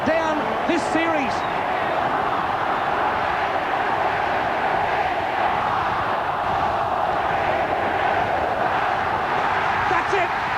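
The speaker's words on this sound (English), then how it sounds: "the Queensland crowd will count down this series." A Queensland stadium crowd at the 1991 State of Origin Game 3 in Brisbane roars steadily through the final seconds, a loud sustained wash of massed voices with a commentator talking over it.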